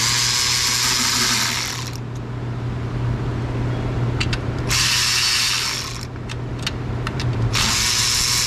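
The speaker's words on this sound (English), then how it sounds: "I'm gonna try to get that out with a wrench." A wrench works on a bolt in a classic 4.3 L engine with a leaking injection module, giving bursts of fast ratcheting clicks separated by quieter pauses with metallic ticks, close and fairly loud, with no speech.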